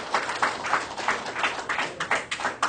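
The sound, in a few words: audience applause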